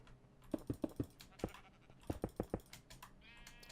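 Sheep in the Minecraft video game bleat in short, quick clusters of calls in two bursts, with light clicking like keyboard typing between them.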